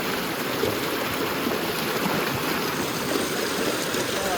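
Flowing water of the Panguil River rushes steadily and close by, a dense continuous wash with small splashes and trickles throughout, no voices heard.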